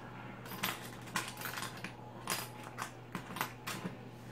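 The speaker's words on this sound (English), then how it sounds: "So I'm going to show you guys real quick how it locks." Latches on an Atomik RC hard carrying case for a DJI Phantom 3 drone being locked: a series of sharp, close mechanical clicks and snaps at an uneven rhythm over a low steady hum.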